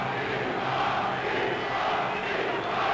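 A boxing crowd in the Deutschlandhalle in Berlin roars in a dense, continuous wall of cheering and shouting, loud and unbroken for the whole stretch.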